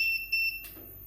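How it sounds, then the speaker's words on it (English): A high-pitched electronic alarm on a 10kVA uninterruptible power supply beeps in a few short pulses, then stops, leaving a faint hum. "this alarms and buzzer is working"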